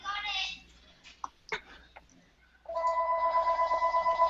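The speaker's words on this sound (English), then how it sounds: "Phone." A telephone rings in repeated bursts, a warbling electronic tone starting partway through and continuing steadily to the end, after brief speech and small clicks.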